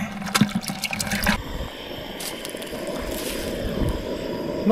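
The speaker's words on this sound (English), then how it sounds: "Not boiling yet, but we're getting warmer." Water heating in a pot outdoors for cooking freshly caught yabbies, not yet boiling; a steady low rumble and hiss of the heating pot runs throughout, with a few brief clinks near the start.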